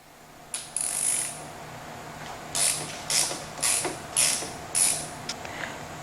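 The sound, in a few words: removing motorcycle brake caliper bolts with a ratchet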